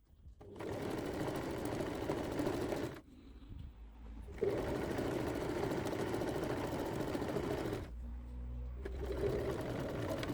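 Electric sewing machine stitching a curved blouse seam with a one-centimetre allowance, steady whirring runs of several seconds broken by short pauses, close and even.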